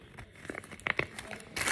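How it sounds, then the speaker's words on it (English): A plastic bag from an Amazing Petz toy crinkles during unboxing in short, close bursts of rustling that grow louder at the end. "And this is the plastic bag I was in."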